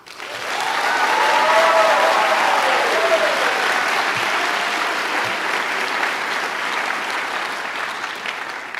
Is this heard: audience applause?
yes